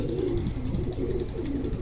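A red Punjabi pigeon coos low and soft in a short, repeated rolling pattern, close by and steady against light background noise.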